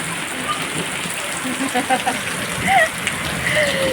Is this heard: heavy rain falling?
yes